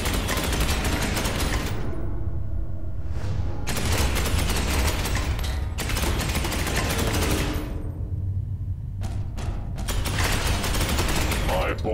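Sustained loud automatic gunfire from Space Hulk Ascension roars in long continuous bursts with brief pauses, heavy and close, with voices talking underneath.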